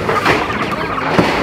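Fifty meat chickens on pasture cluck steadily at close range, a dense overlapping flock chatter with a few louder individual clucks standing out.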